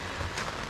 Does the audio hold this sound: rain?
yes